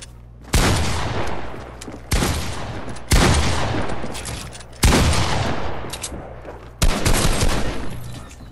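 Repeated loud bursts of gunfire from the video game Fortnite, five sharp onsets each followed by sustained rapid firing and crackle, densely packed and close, with no talking.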